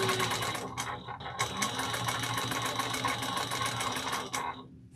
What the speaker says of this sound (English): My machine is oiled and ready to go